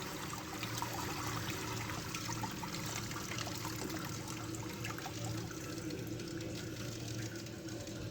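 Water trickles and flows steadily through a Bernoulli's theorem apparatus on a hydraulic bench as the flow control valve is closed, giving a faint, continuous wash of liquid with no talking.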